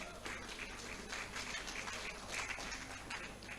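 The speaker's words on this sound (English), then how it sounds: "Can we please applaud her?" An audience at a conference opening ceremony claps steadily for a few seconds, a soft, distant-sounding patter of applause with no pauses.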